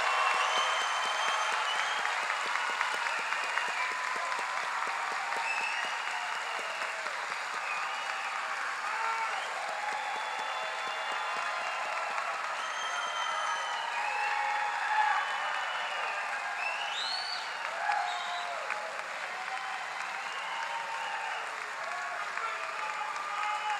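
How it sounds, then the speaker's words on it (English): Sustained applause from a large crowd honoring graduates at a 2025 honors ceremony, steady and dense throughout, heard from within the hall with no talk over it. "give a round of applause to our graduates"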